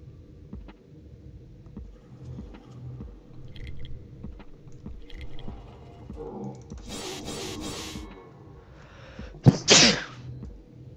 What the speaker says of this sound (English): That was my sneeze.